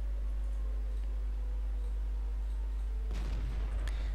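A tank cannon fires in World of Tanks, a single loud, sharp boom cutting in about three seconds into a low steady engine hum, with a brief crack following close behind.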